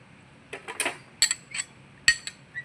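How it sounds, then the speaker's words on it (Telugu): Fried almonds, cashews and raisins being added to semiya payasam, heard as a few light metallic clinks of a spoon against a vessel, close and quiet with brief gaps between. "డ్రై ఫ్రూట్స్ వేస్తున్నాను ఫ్రెండ్స్ ఇందాక వేయించుకున్నాం కదా బాదం జీడిపప్పు కిస్మిస్ అవి వేస్తున్నాను"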